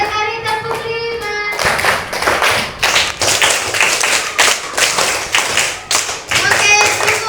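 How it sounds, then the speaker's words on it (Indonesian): After a brief tonal sound at the start, a classroom of students claps out a rhythmic clap-five pattern in loud, sharp bursts repeated in close succession, with voices faintly mixed in. "Tepuk 5. 3 kali tepuk 5."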